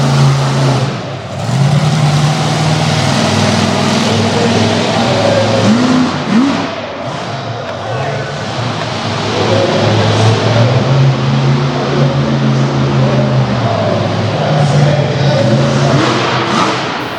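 A monster truck engine revs hard and roars continuously during a freestyle run at a Monsters of Destruction Tour arena event in Du Quoin, Illinois, with the truck driven in two-wheel drive; loud rising and falling revs fill the whole stretch.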